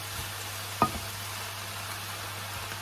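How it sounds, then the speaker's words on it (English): Mushrooms sizzle in a pan with salt and pepper, a faint steady hiss under a low hum, broken by a single sharp knock of a spoon stirring near the start. "another stir"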